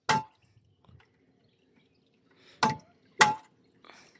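A hammer strikes a metal water tank three times, each a sharp ringing clang, the first alone and the last two in quick succession, close and clear against a quiet background.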